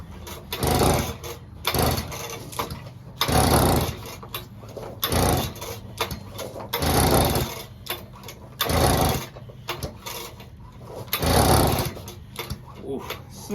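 A small two-stroke engine at half choke, long left unused, sputters through repeated loud, close start attempts in regular bursts with brief gaps between them.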